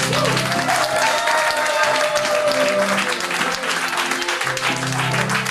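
A church congregation bursts into sustained, loud applause with scattered cheers, filling the space continuously from start to finish.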